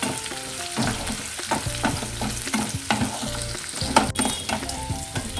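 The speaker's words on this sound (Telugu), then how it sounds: "ఇది కొద్దిగా పచ్చిమిర్చి ఫ్రై అయ్యేలాగా" Green chillies frying in a pan for hotel-style coconut chutney, a steady close sizzle with repeated spoon stirring and scraping strokes throughout, no voices.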